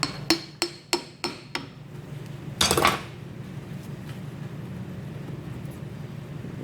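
Sharp metallic hammer blows ring out against a Duramax steering gear box part, five close, evenly spaced strikes that each decay quickly, followed by a brief scraping clatter and low shop background noise.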